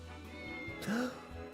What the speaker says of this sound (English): Is that a cat? Let me talk to the kitty.